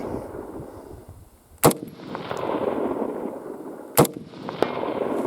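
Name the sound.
TG36E rifle shots hitting a target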